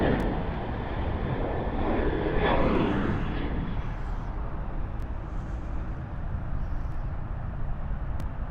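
A Qantas airliner takes off from a Sydney Airport runway, its jet engines a loud, sustained broadband roar that swells briefly and then holds steady.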